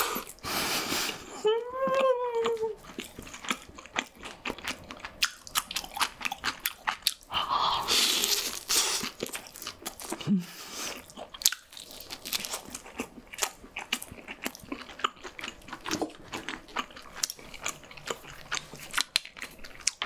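Close mukbang chewing of rose and white chicken pizza, with crunchy bites and soft wet mastication in irregular bursts, plus a short whimper-like sound early on and no speech.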